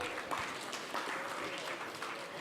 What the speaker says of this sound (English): Clap for yourselves, tafadhali.